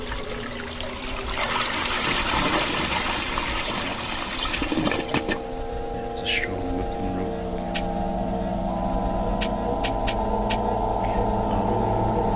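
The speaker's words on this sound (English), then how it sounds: "So we'll cleanse the water, basically flush." A toilet flushes in a video game, rushing water loud for the first five seconds, then settling into trickling and dribbling with scattered clicks and a low tonal hum as it refills.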